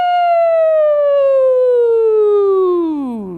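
A single voice imitates a siren during a vocal warm-up in a music lesson, one loud sustained close tone gliding smoothly down in pitch and dropping at the end.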